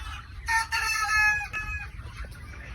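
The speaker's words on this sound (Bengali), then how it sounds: "এটা হচ্ছে অস্ট্রলক যে মুরগি, অস্ট্রলক, দেখুন কতটা সুন্দর" Australorp hens on a poultry farm give a close, drawn-out, tonal cackle lasting about a second. Softer clucks and a low background rumble from the farm follow it.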